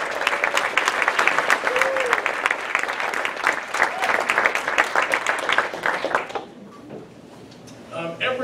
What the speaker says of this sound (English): Give a round of applause to all of our theaters.